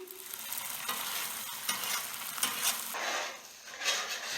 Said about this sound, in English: make some room and throw on your scrambled eggs